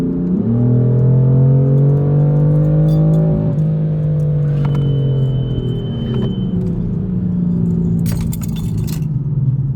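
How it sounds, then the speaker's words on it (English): Loud, close engine roar rises as a BMW E36 accelerates with its Guerrilla exhaust valve open, a deep throaty tone sweeping upward, dipping, then building again. "Some acceleration, so M1 on, valve open."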